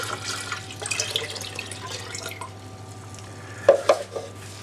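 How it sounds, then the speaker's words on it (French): Cold water pours from a tap into a carafe for lemonade, a soft steady splashing stream close by with faint clinks of glass near the end. "dans une carafe, je mets 1 litre d'eau"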